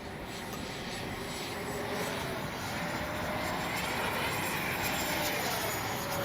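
A Freewing Yak 130 RC jet with a 70mm ducted fan flies past outdoors, its steady rushing whine swelling slightly over a few seconds under constant wind noise.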